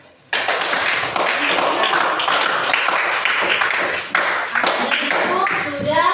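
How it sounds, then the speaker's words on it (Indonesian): Hands clapping in a classroom, a dense burst of many small claps starting abruptly and continuing steadily, with children's voices mixed in underneath. "Iya, tepuk tangan."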